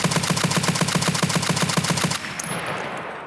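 An RSASS rifle in Escape From Tarkov fires a rapid, evenly spaced string of about a dozen loud, close shots, then cuts off, leaving a fading echoing tail and a faint high tone.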